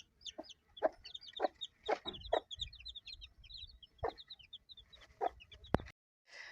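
Bantam hens cluck in a steady run of short, close calls mixed with a few higher chirps, with quiet gaps between and no talking.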